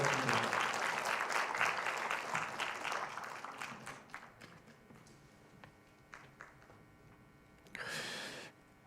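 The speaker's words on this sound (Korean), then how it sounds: "우리 박수 다시 한번 크게 박수 드리겠습니다." A church congregation claps during a Sunday worship service, loud and dense at first, then thinning and fading to scattered claps over several seconds, with a brief rustling burst near the end.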